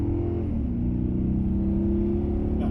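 A Maserati accelerates to merge into traffic, its engine giving a steady low rumble with a brief pitch shift early on, heard close from inside the car.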